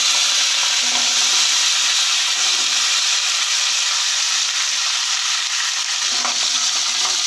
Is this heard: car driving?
no